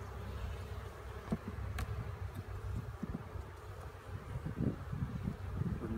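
Honeybees hum and buzz in a steady drone around an opened hive during a spring inspection, with a few louder passes close by and some light rustling, no talking.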